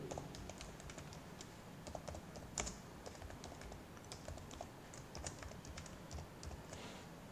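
Steady typing on a computer keyboard, quick irregular clicks with a few louder key strikes, close and alone while entering MySQL table fields.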